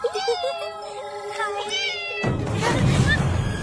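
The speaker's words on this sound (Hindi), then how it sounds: "दूसरी बिल्ली" A cat meows several times in quick succession, clear and close, before a sudden burst of louder noise takes over, with people talking faintly in the background.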